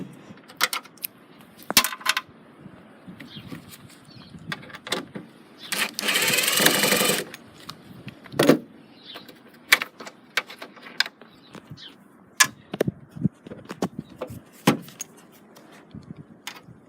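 Front grille being taken off a Holden VZ wagon, heard as scattered clicks, knocks and plastic rattles at close range, with a longer burst of rough scraping or buzzing partway through and no talking.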